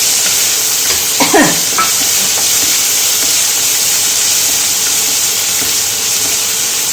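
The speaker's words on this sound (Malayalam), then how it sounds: "ഇഞ്ചി കൊത്തിയായിരുന്നു ചെറുതായിട്ട് കൊത്തിയായിരുന്നത് വെളുത്തുള്ളി അഞ്ചാറ് വെളുത്തുള്ളി ചെറുതായിട്ടായിരുന്നു ചേർത്ത് വഴറ്റും" Finely chopped ginger and five or six small cloves of minced garlic sautéing in a pan for banana stem pickle, a loud, continuous hiss and sizzle with a brief stirring scrape near the start, no speech.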